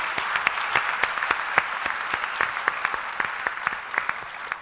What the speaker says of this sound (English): let's have a very big round of applause for the panelists